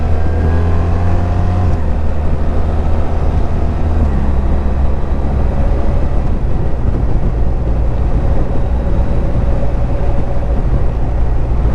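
A BMW R1300 GS Adventure motorcycle rides along with a deep, steady engine drone and loud wind rumble, its pitch stepping down once as the gears shift.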